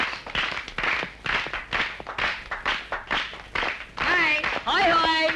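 A group claps in a steady rhythm to welcome Raja back, with the regular beats followed by voices at the end.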